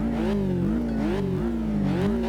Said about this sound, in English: Sounds good with that boxer engine though, or sorry, that flat engine.